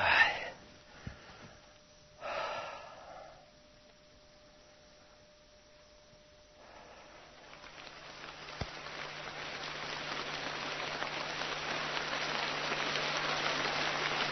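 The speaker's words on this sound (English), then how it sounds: "Rain come down and rain protects me." Rain begins to fall in the jungle at night. After a few quiet knocks and breaths, a soft hiss swells slowly into a dense, even downpour that fills the last half.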